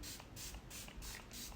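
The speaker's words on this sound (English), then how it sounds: "You know when you're spraying your face and you feel like it's not going to your face?" Four or five rapid, soft hissing pumps of setting mist being sprayed onto a face, close up and evenly spaced.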